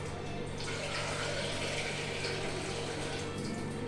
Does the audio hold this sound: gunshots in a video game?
no